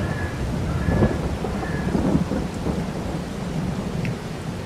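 Steady rain pours down amid a deep, rolling rumble of thunder in Farming Simulator 22, a continuous dense wash of sound with faint bird chirps.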